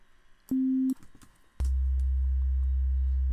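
Two pure synthesized sine tones from a software synthesizer's oscillator: a short mid-pitched beep, then after some clicks a long, loud, deep low 808-style tone that holds steadily.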